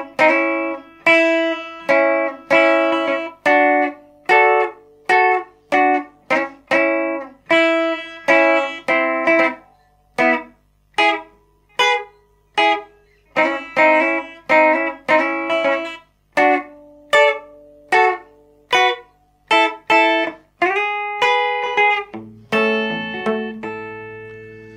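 A slow, clean electric guitar solo in a twangy rockabilly style, single notes and short double stops picked deliberately with brief gaps between phrases.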